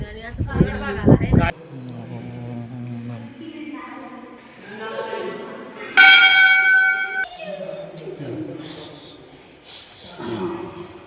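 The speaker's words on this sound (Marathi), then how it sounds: "इथं फक्त घंटी वाजवता आपण त्याचाच आवाज येतो" A hand-rung temple bell at the Veleshwar temple in Kurwandi village, Ambegaon taluka, sounds with a bright metallic strike midway and a shimmering ring that fades, amid chirping birds and people talking nearby.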